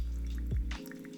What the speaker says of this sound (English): we're going to pour until we get 280 grams of water total